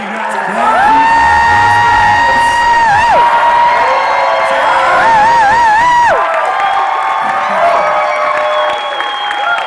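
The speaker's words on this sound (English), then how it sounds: "Give one more big round of applause" Convention crowd at a Legends of Tomorrow fan panel cheering, whooping and applauding loudly and continuously, with shrill shouts and sustained cries rising over steady clapping throughout.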